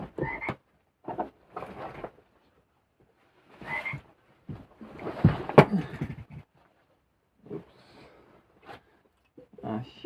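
A USB rechargeable toy frog croaks in several short separate bursts, fairly close and moderately loud, with quiet gaps between them and no talk over it.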